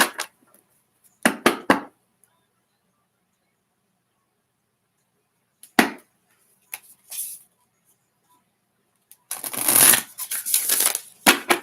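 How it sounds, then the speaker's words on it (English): Tarot cards are shuffled by hand in a few separate bursts of riffling and snapping, close and fairly quiet, with long silent gaps between them and the longest, busiest shuffle at the end. "shuffling the cards right now"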